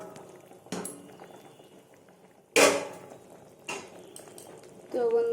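A lid lifted off a pot of simmering vegetarian okra and potato curry, with sharp metallic clanks of the lid against the pot and a soft bubbling underneath, close and fairly loud.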